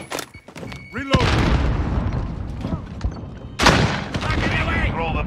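A grenade blast in Call of Duty Modern Warfare booms loud and close amid a firefight, followed by rolling rumble, a second heavy burst later, and scattered gunfire with radio-style callouts.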